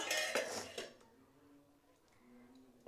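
A lid set over a pot of paneer and potato curry in a home kitchen, a brief clatter of metal cookware near the start, then quiet with faint background hum.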